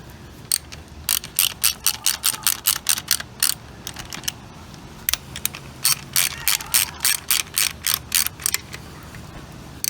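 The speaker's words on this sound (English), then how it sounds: "I found a shallower socket to use." Ratchet wrench with a shallow socket tightening a fuel pump on a 1936 Chevy coupe, giving bursts of rapid, crisp clicking strokes close up, with brief pauses between runs and no talk.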